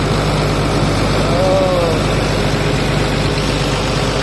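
Small engine started and now idling, a steady low rumble with even vibration close by, a brief whistle-like tone rising over it partway through.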